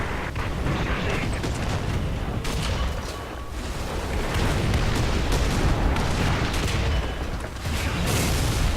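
Deep, heavy tank cannon booms and blasts rumble through a dense, noisy War Thunder battle soundscape, with a few sharper bursts standing out near the end.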